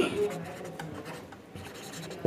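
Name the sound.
pen writing on paper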